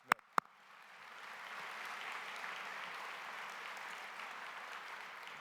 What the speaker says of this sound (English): give him a round of applause for the great job he does here at Ohio State, Gene Smith